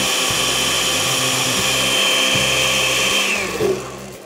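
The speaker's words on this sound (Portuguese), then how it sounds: "Esse liquidificador dá uma impressão de que não vai bater nada" A kitchen blender mixes carrot cake batter with a loud, steady high whir that holds for several seconds, then winds down and stops near the end.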